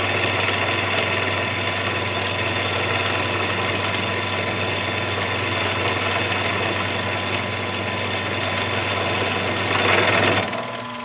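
A wood lathe modified to turn metal hums steadily while cutting a metal part, with a continuous mechanical whir and chatter that swells slightly near the end before stopping.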